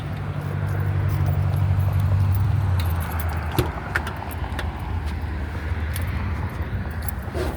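A 2002–2006 Mini Cooper R50 starts up with a low, steady engine hum and rumble, with brief key jangles and light clicks over the idling motor.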